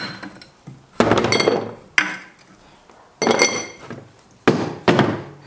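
A ball joint press forces a ball joint out on a turbocharged LS-swapped Mustang, giving a series of loud metallic clunks and knocks in irregular bursts separated by quiet pauses.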